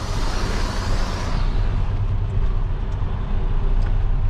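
A truck crawls through mud in a driving video game, its engine holding a low, steady rumble with a rougher broadband churn that eases after the first second or so.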